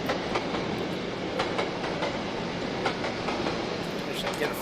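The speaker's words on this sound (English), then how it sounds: "get a freight train going past." A freight train in a train video game passes by with a steady, dense rumble and rhythmic clickety-clack of wheels over rail joints, continuous and fairly loud throughout.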